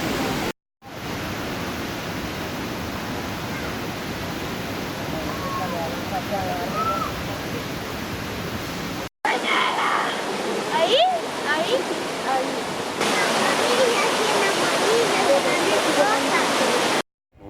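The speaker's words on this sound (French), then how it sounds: "Mais on a réussi à trouver la cascade." Steady roaring rush of a waterfall in Ecuador, loud and continuous, with brief cuts and a slightly brighter splashing section later.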